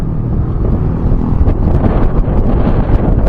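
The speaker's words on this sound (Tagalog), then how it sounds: "Grabe ang hangin." Loud, constant low roar of strong wind buffeting the microphone outdoors at a housing area in Naic, Cavite, rumbling and gusting without pause.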